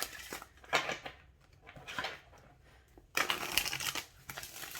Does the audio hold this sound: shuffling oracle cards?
yes